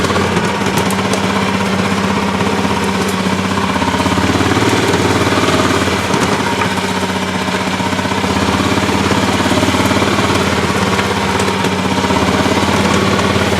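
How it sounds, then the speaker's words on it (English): A Predator 420 engine fitted in a lifted Club Car DS golf cart runs loud and close, with a steady rough, chugging drone throughout. "Just touch the gas pedal, it fires right up."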